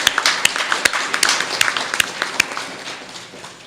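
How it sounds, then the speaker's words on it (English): Audience applause after a round of thanks at a city Business Services Center event, a steady wash of clapping with a few sharper claps standing out, moderately loud and fading slightly toward the end, with no talking. "Please join me in a round of applause to thank these people for their efforts."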